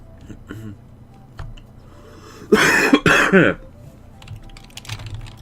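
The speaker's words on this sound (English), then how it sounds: "Excuse the cough again." A single close, loud cough burst in the middle, surrounded by quiet keyboard typing and soft tapping.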